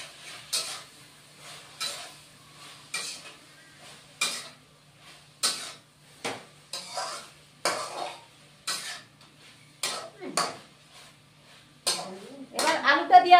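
Boiled potatoes tipped into a pan of yardlong beans and stirred, giving a series of distinct scraping, clattering utensil strokes at a steady rhythm, close and fairly loud, with a busier burst of stirring at the end.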